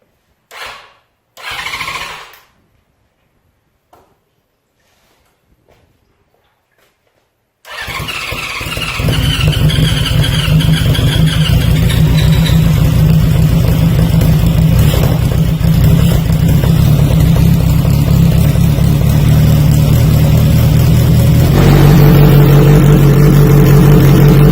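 A Honda CB550 motorcycle engine cranks briefly, falls silent, then catches and settles into a loud, steady idle that holds close up for the rest of the clip.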